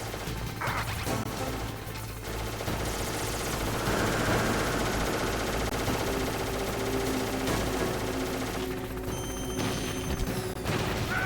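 Dense, loud game gunfire from Metal Gear Solid, a steady stream of crashing shots and impacts running the whole time with no talking over it.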